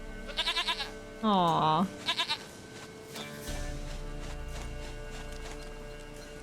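A goat in The Witcher 3 bleats in a few short wavering cries, one longer and louder than the rest, followed by a low rumble of movement; a voice briefly reacts over it.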